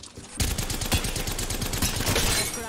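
Mozambique shotgun and Havoc rifle fire in Apex Legends: a burst of rapid, sharp gunshots in a dense rattling stream that starts abruptly and runs without pause, loud and close.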